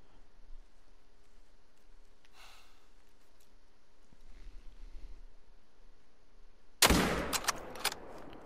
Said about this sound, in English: I'm gonna try to go for a 400 yard shot